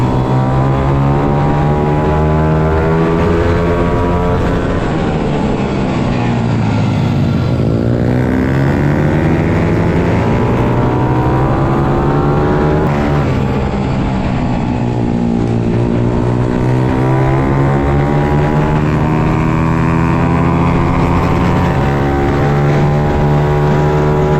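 Racing motorcycles scream around the Three Sisters track in a Fab Racing Championship round, engines loud and continuous, pitch rising and falling as bikes rev, shift and sweep past, with no commentary over them.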